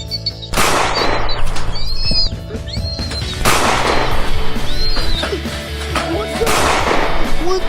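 Several sharp, loud gunshot-like bangs crack out at intervals, each followed by a brief noisy tail, with faint chirping and other scattered noises in between.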